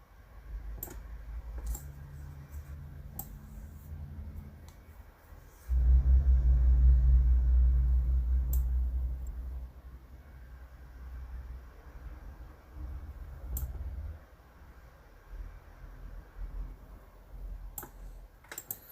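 Computer mouse clicks sound as sharp, isolated taps scattered across the span over a low rumble, with a louder humming stretch in the middle and no speech.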